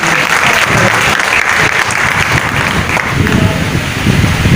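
Applause at a Karni Sena national executive meeting, a dense, steady wash of many hands clapping that carries on unbroken at close range, with faint murmuring underneath.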